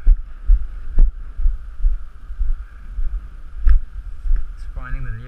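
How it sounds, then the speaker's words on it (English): A steady, thin motor whine from a Wing drone hums through its landing, with soft low thumps scattered underneath and a voice speaking briefly at the end. "It's landing. You can still hear the motor going."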